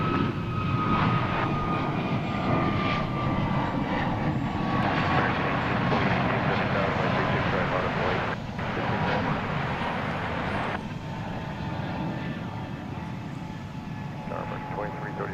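Airliner engines roar at DFW airport beside the runway, a steady loud broadband rumble and whine that holds for the whole stretch, with a faint tonal hum drifting through it and air traffic radio talk running underneath.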